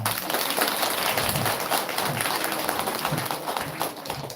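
A temple congregation at a dharma talk breaks into dense, steady applause for a child, filling the room at even loudness for the full stretch.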